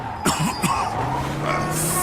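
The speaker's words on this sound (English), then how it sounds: "Every time I cough, it feels like I'm being stabbed in the chest." Two sharp, rough coughs from an injured man with hurt ribs in the video game Mafia II, followed by a strained exhale over a steady low background hum.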